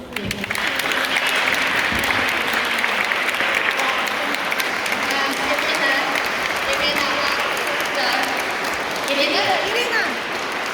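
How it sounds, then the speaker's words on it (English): Sustained, dense applause from a crowd at a festival for Ukraine, loud and steady for about ten seconds with some cheering mixed in. "please give Allah a round of applause"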